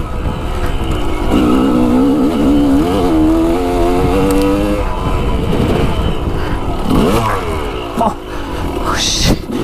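Off-road vehicle pulling a wheelie up a hill, its engine roaring loud and close with rising and falling revs, under people's voices.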